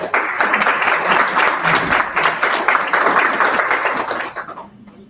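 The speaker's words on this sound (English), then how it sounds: "Please, a round of applause for our panelists." Audience applause for panelists at a Sunday afternoon forum on housing insecurity in Baton Rouge, dense steady clapping that fades out toward the end.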